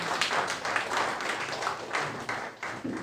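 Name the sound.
audience applause welcoming a lecturer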